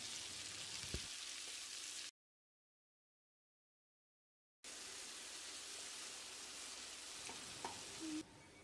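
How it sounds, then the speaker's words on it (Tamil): Steady sizzling of chopped tomatoes sautéing in a pan, a dense hiss that cuts out completely for a couple of seconds before resuming, with occasional small clinks. "ரெண்டு தக்காளி சேர்த்து மைய வதக்கிடலாம்"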